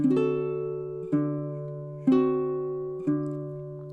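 A baritone ukulele plays a measure of a song as four evenly spaced strummed chords, each left ringing and slowly decaying, close and solo.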